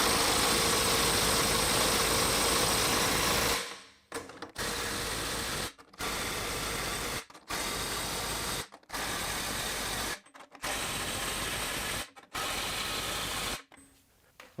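A Milwaukee M12 FUEL Stubby 2554 impact wrench in Titan mode hammers loudly on fasteners backed off two full turns: one long continuous run, then a series of roughly two-second bursts separated by brief silent pauses, close and alone.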